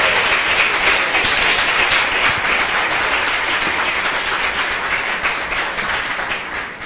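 A church congregation claps loudly and steadily, a dense, continuous wash of applause that holds at full strength throughout with no voices standing out.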